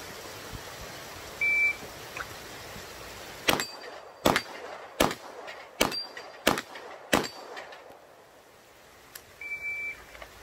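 Six pistol shots ring out at an irregular quick pace, each hitting a steel plate rack with a sharp metallic clang, bracketed by electronic shot-timer beeps before and after the string.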